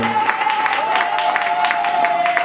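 A church congregation claps together in acclaim of the Lord at a pastors' consecration service, the steady rhythmic applause loud and continuous over a sustained organ-like tone.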